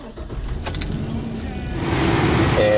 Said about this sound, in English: I'm going to go ahead and start the truck up now